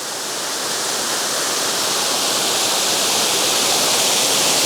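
A Yorkshire waterfall roars close by, a loud, steady wash of rushing water that holds constant with no voices.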